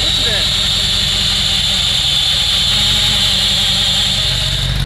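A fake Lamborghini replica's engine runs steadily as the clutch is let out to engage, a loud continuous drone with a high whine, close and unbroken until it cuts off at the end.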